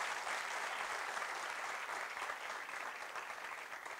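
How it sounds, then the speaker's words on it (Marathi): Audience clapping at a live comedy show, a dense, even wash of many hands applauding steadily for the whole stretch, moderately quiet and somewhat distant, with no talk over it. "टाळ्या वाजवा एकदा त्यासाठी"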